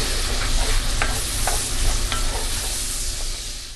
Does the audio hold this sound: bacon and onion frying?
yes